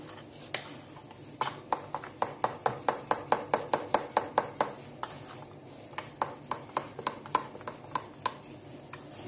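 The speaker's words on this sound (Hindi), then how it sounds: "अब ये मैं बिल्कुल मिक्स कर लूंगी इसे" Mango trifle is mixed with custard in a bowl, giving a quick run of rhythmic spoon taps and scrapes, about two to three per second. The sounds are moderately close and stand alone with no talk.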